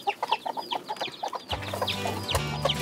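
Farm chickens cluck in short repeated bursts, a rooster among a brood of eleven chicks, with a steady mechanical hum starting partway through beneath the close, busy clucking.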